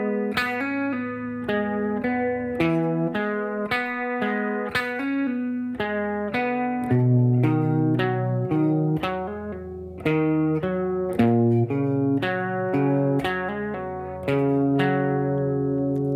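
Electric guitar playing the main riff of a song, a rapid, continuous stream of picked notes with a clean, effected tone, steady and close, played alone.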